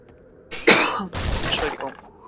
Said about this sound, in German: Ich habe gehustet.